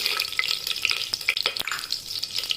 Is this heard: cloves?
yes